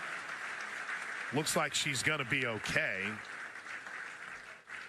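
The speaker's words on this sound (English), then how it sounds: "Crowd applauds" A crowd at a college softball game applauds steadily as a broad, soft wash of clapping in the background while a commentator speaks over it.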